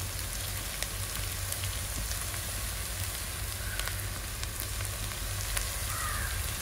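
Fifteen to twenty garlic cloves fry in a pan on a wood-fired stove for a mutton and cassava biriyani, giving a steady, dense sizzle with occasional small crackles and pops. No voices are heard.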